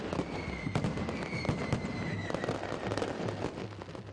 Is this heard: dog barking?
no